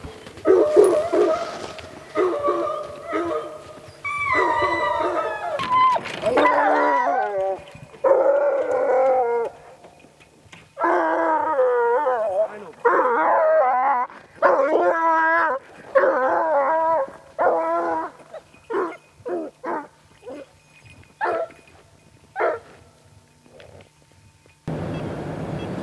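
Hunting hounds bay and howl in long, repeated bursts while chasing a bobcat in British Columbia, loud and close, with brief pauses between volleys of yelping cries.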